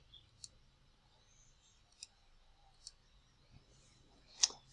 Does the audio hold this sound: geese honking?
no